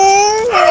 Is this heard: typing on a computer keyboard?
no